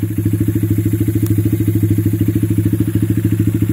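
Honda Grom motorcycle on two-step launch control holds a loud, close, rapid staccato bark, the engine popping in an even fast rhythm against the limiter for the whole stretch.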